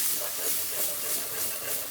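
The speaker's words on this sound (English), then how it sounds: "So that spice has hit the oil" Turmeric and cumin spices sizzle in hot oil as a constant, close, bright hiss with gentle pulsing surges, loud and steady and without voices.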